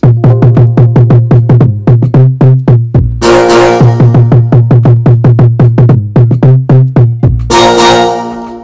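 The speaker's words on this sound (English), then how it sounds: "So I added this trumpet that sounded like this." A brassy trumpet-like hit sample, called Chinese Hits from the Xpand plug-in, stabs twice in a loud beat, over a steady pulsing bass pattern with no voices.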